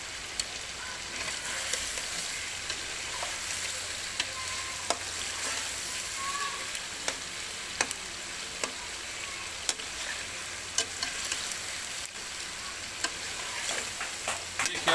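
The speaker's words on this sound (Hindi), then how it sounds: "इस तरह से चमचा हिलाएं कि बोटी ना टूटे।" Chicken korma fries in a pot while a spoon stirs it gently, a soft continuous sizzle broken by light scattered ticks and clicks of the spoon, with no talking.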